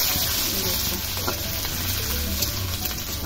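Crushed ginger fries with cumin and bay leaf in hot oil for a jackfruit masala dish, a close, continuous sizzle with faint stirring scrapes and no voices.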